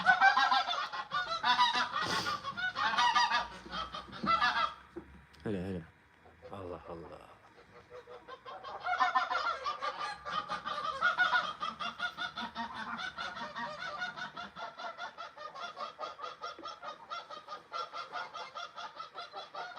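Geese honk repeatedly and loudly close by, a busy chorus of harsh calls that continues throughout with brief pauses.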